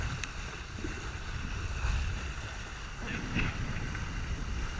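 Steady wind roars across the microphone aboard a Prindle catamaran sailing in strong breeze, with a broad rushing hiss of air and water that swells slightly mid-way; no distinct talk stands out.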